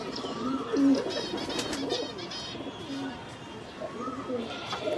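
Pet pigeons at home give low, repeated throaty coos at close range, steady and moderate in volume against faint background noise.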